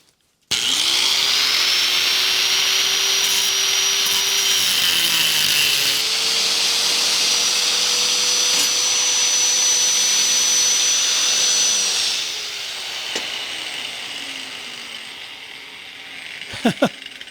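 A power tool grinds steadily through a metal strip with a high, sustained whine for about twelve seconds, then winds down with a few clanks.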